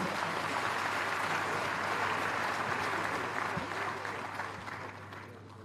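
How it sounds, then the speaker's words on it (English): A large audience claps loudly and steadily, the applause gradually fading toward the end. "the Pro-Chancellor deserves another round of applause"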